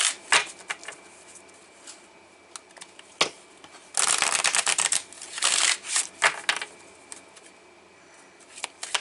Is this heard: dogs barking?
no